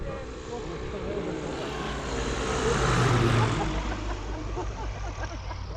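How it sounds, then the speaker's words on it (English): An Alp Pioneer 300 propeller plane passes overhead at the Montrose Air Show in Scotland, its engine drone swelling to a peak midway and then fading, with steady wind and background noise. "That plane there's an Alp Pioneer 300."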